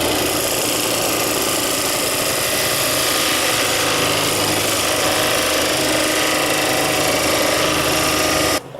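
A hollowing tool cuts inside a wooden bowl spinning on a lathe, making a continuous rough scraping and chattering whir, loud and close, with steady texture and no voices.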